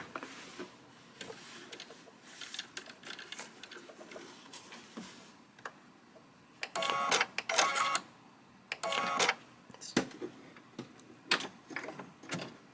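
A sewing machine stitches a button in place, firing off quiet clattering bursts of stitching mid-way through, with softer handling noises between them.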